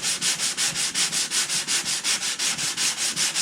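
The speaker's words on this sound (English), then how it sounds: "then I'll rotary sand it with 220" Rotary sanding of an OM acoustic guitar body with 220-grit sandpaper during finish prep: a steady, close abrasive whir pulsing rhythmically about five times a second as the pad sweeps across the wood, with no talk.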